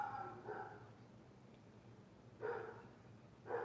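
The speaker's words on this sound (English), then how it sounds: "He's staring right at me, barking." A dog barks a few times outdoors, two short pairs of barks spaced apart, moderately near but quiet over low background hum.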